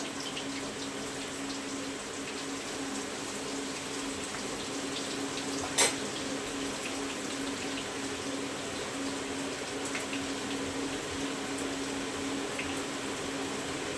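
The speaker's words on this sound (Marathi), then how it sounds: "तेल गरम झालेलं आहे लसूण टाकलेलं आहे" Garlic and ginger sizzling in hot oil for Schezwan rice in a home kitchen, a steady soft hiss throughout with one sharp tap midway.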